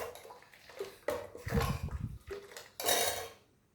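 Scraping and clinking of a utensil stirring salt into amla (Indian gooseberry) tambuli in a metal pot, in several irregular bursts close by.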